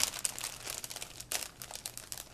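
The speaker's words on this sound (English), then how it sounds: "Sorry for the crinkling" Plastic packaging crinkles and rustles in quick irregular bursts while handmade crafts are being shown, close up and fairly quiet, with no talking.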